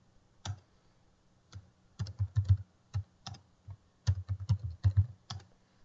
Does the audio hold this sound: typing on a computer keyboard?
yes